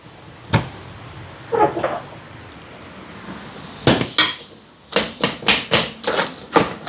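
A cooking pot of pumpkin curry being lifted off a stove after the flame is turned off, with sharp metallic clanks and knocks, first scattered then a quick run of repeated taps and clatters close by.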